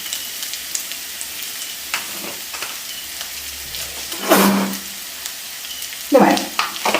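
Cabbage with coconut and a pinch of turmeric stir-fried in a pan, a soft low sizzle punctuated by scattered stirring taps and two louder scraping bursts near the end.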